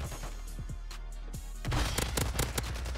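Pistol fire in Call of Duty: Modern Warfare 3, a few sharp shots, then a louder dense burst of rapid gunfire and blasts filling the second half.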